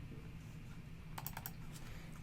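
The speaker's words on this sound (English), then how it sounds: "we're going to type my email address, my name," Typing an email address on a computer keyboard: after a quiet stretch of steady background hum, a quick burst of crisp, close keystroke clicks follows in the second half.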